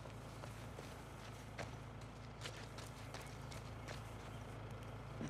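Steady clip-clop of horse hooves walking at an even pace over a constant low hum, with no voices, in the video game The Last of Us Part II outside Seattle.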